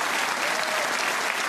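A snooker crowd at the 2017 Scottish Open quarter-final applauds John Higgins' century break, with dense, sustained clapping filling the hall.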